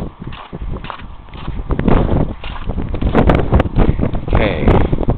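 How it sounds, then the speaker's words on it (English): Gusty wind buffets the microphone outdoors near horses, rumbling in uneven surges, while people talk over it close by. "Oh, and there's the wind."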